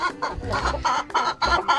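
A Kansas breed rooster and hens cluck close up in a quick series of short, choppy calls.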